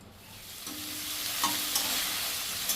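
Prawns fry in hot oil with a steady, soft sizzling hiss that swells slightly, broken by a few faint scrapes or stirs.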